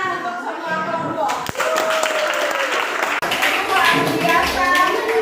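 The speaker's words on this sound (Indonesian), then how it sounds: "tepuk tangan untuk semua kelompok" Classroom applause from junior high students after a group presentation in a social studies lesson, a steady wash of clapping running throughout, with a teacher's voice speaking over it.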